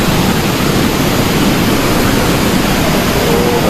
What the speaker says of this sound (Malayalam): അവിടെ നിന്നാണ് പോയി വെള്ളം ചാടി വരുന്നത്.